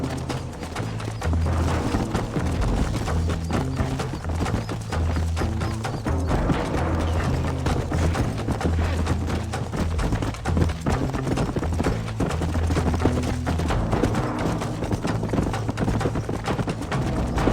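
In the video game Red Dead Redemption, horse hooves clip-clop in a continuous, rapid rhythm, loud and close, mixed with dense game sound and occasional snorts.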